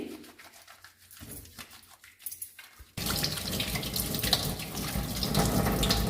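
A tap runs while hands are washed with foaming hand wash at a sink. After some quieter handling sounds, the water gushes in loud and steady for the last half, with no talking.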